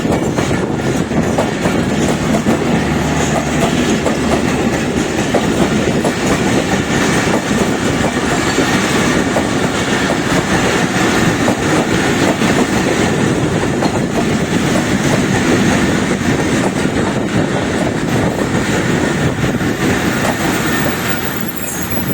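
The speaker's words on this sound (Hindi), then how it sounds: "38 डाउन फरीद एक्सप्रेस जो है वो ड्रिग रोड पे एंटर हो रही थी।" The 38 Down Fareed Express, led by locomotive GEU 24559, rolls into Drigh Road station with a loud continuous rumble of wheels on rails, steady clatter and faint squeal throughout.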